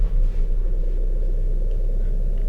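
A synthesized noise riser processed through Timeless delay and a frequency echo, heard as a steady, dense low rumble with washy upper texture that holds evenly throughout without clear build or break.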